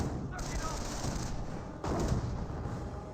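An M1 anti-tank gun fires in Company of Heroes, a sharp broadband boom landing near the middle over a constant wash of battlefield noise and distant gunfire.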